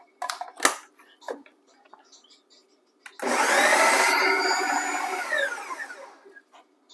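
A kitchen blender whirs through a banana snack mixture, starting abruptly after a few clicks and knocks and running steadily at a high, whining pitch for about three seconds before cutting off.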